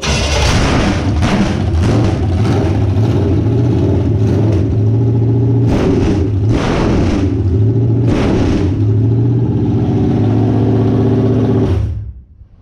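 An internal combustion engine being broken in after a timing reset and a starter shim, running loud and close with a steady low throbbing idle, a few rev surges, then cutting off abruptly at the end.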